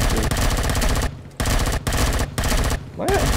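Sustained machine-gun fire in the sci-fi survival game Empyrion Galactic Survival, loud and close, in long rapid bursts broken by several short gaps, with a voice briefly audible.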